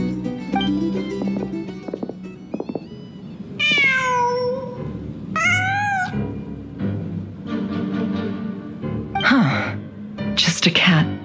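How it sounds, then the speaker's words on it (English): A cat in the Genshin Impact game meows twice in the middle, clear rising-falling calls, with another yowling cry near the end, all mixed with a background game soundscape and a voice speaking. "Just a cat."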